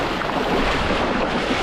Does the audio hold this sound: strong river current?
yes